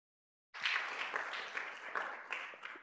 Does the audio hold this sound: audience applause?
yes